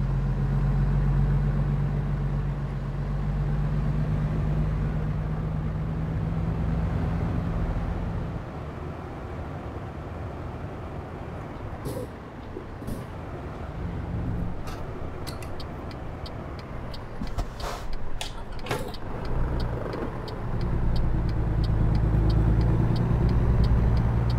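A powerful truck in American Truck Simulator pulling an empty trailer, with a steady low engine drone that drops and softens partway through, plus scattered clicks and ticks from the cab, no talking.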